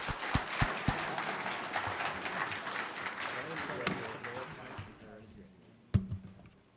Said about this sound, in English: But one last round of applause.